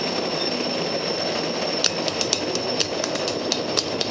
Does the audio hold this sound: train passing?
yes